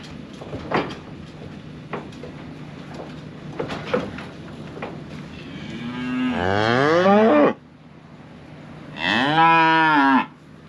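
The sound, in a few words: cows mooing in pasture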